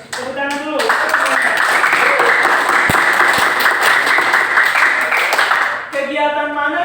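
A classroom bursts into applause, many hands clapping loudly and continuously for about five seconds, with a teacher's voice briefly before and after.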